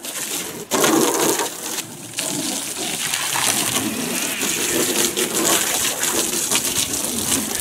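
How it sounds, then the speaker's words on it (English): Steady hissing spray of water inside an empty hot tub, continuous and fairly loud, with a brief pause near the start and occasional splashy bursts. "Just give it a good overall spray down of the interior."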